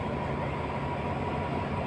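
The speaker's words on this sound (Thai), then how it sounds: "วันนี้ผมอยู่ที่สถานีรถไฟ กรุงเทพนะครับ หัวลำโพง" Steady low rumble of a train with a broad, continuous hum at Hua Lamphong railway station in Bangkok on a Sunday late morning, machinery running nearby.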